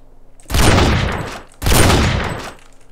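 Two loud bursts of rapid video game gunfire in a SA-MP (San Andreas Multiplayer) Hunger Games server, each lasting about a second, with a short gap between them, sharp and close.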